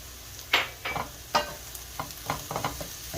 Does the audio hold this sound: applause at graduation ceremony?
no